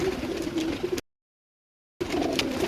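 Low throaty cooing from Imamdini pigeons, close and steady, cut by a second of dead silence in the middle before the soft rolling calls resume.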